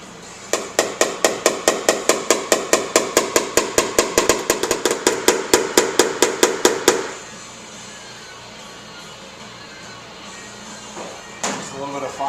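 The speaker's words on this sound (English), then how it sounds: "Go to the blending hammer here and see how we do." Rapid, evenly spaced metallic taps from a blending hammer on a dented car body panel during glue-pull dent repair, about two dozen sharp hits over several seconds, then quiet with a brief scrape near the end.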